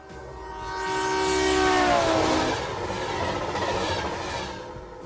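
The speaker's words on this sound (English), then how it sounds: "That's a cargo train, Bob tells Pete." A cargo train speeds past, its horn blaring loudly at first and then dropping in pitch as it passes, followed by a steady rumble of rail cars rolling by with no talk.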